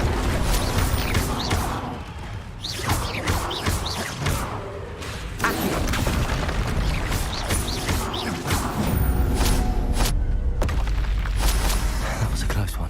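Spells Accio, Incendio, Expelliarmus and Confringo cast in Hogwarts Legacy: a dense run of booms, whooshes and thuds from magic combat, loud and continuous, with a voice speaking throughout.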